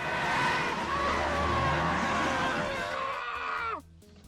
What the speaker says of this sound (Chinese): 幸好大胖及时刹车